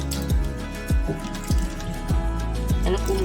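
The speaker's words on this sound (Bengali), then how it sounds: "কুলটা আমি এখন খুব ভালো করে ধুয়ে নেব।" Jujube fruits (kul) are washed by hand in water, giving a series of close splashes and drips with a dripping plop about every half second, over a low background hum.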